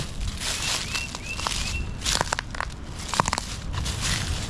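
Footsteps crunch over broken glass beside a road at night, irregular gritty crackles close by amid steady wind noise, with a bird whistling faintly early on.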